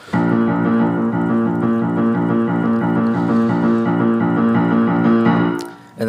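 Piano playing octaves in a steady repeating rhythmic pattern, loud and continuous for about five seconds, fading out near the end.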